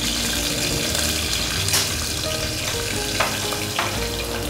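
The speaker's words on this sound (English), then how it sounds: "Now that the jeera has started spluttering" Cumin seeds sputtering in two tablespoons of hot oil in a pan, a steady close sizzle with scattered pops and crackles that continues throughout without talk.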